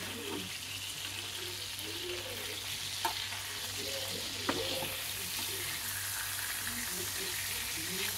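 Hilsa fish fry in a pan with a steady, close sizzle and bubbling of oil. A couple of sharp utensil clicks cut through, and a faint low hum sits beneath.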